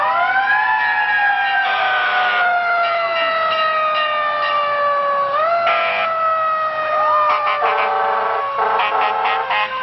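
Ladder truck 71 moves through a Fourth of July parade in Wyoming, Michigan, its fire siren loud and near, with long wailing sweeps that slowly fall in pitch and occasional bursts of horn blasts.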